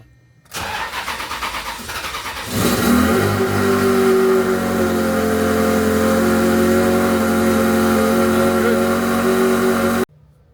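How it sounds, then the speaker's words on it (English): A Ferrari 360 engine cranks over for about two seconds with a rapid rhythmic whirr, then catches and settles into a loud, steady running note close by until it cuts off. "we just want to crank this thing over, see if this thing turns on"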